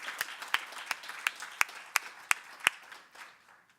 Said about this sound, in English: Yes, we can applaud.